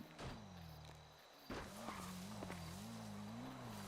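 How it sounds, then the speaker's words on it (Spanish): Motorcycle approaching in a Spanish role-play video game, a steady engine drone whose pitch wavers and climbs as it nears, loud and up close with no talk over it. "Es una moto, ¿no?"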